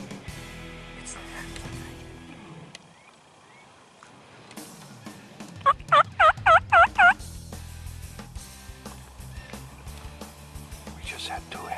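Wild turkey hens call in the woods, a rapid run of about six loud, evenly spaced yelps midway through, standing out over soft outdoor background and quiet whispered talk.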